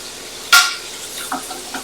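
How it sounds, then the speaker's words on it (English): Onions fry in a pot for an Italian beef stew, with one sharp burst of sizzling that fades into softer stirring and crackling. "Can you hear the sizzle?"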